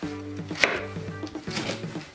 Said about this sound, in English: just chopping into cubes to make it